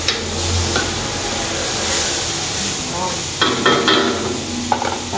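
Meat sautéing in a little cooking oil gives a steady, bright sizzle with hiss throughout, and near the end a few sharper scrapes and clinks of a utensil stirring the pan.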